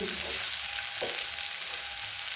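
Potato slices with poppy seeds and onion fry in a pan, giving a steady, quiet sizzle throughout with a brief stir partway through and no talking.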